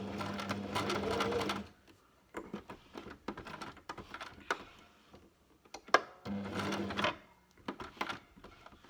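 A sewing machine stitching through fabric and elastic for a face mask, running in two close, fast bursts separated by quieter handling clicks and rustling of the material.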